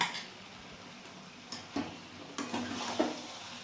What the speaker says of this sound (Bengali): এবার আমি এই যে তরমুজের এগুলো দিয়ে দেবো সাদা অংশটা আমি দিয়ে দেবো এর মধ্যে সবটা দিয়ে দিলাম